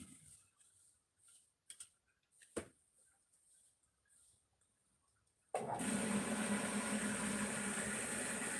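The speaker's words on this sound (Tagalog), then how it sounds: "Maingay ang motor" After several seconds of near silence and small clicks, a motorcycle engine suddenly starts and settles into a loud, steady running rumble up close.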